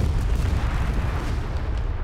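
Loud, sustained roar of overlapping explosions and artillery-like booms in a desert tank-battle video game with a German Marder infantry fighting vehicle, a thick unbroken wall of blasts without speech.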